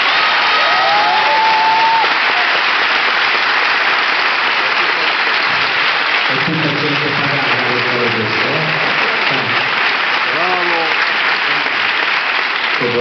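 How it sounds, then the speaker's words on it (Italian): A small audience at a film festival award ceremony gives sustained applause, with steady clapping throughout and voices talking and calling out over it partway through. "E un applauso da parte del pochissimo pubblico."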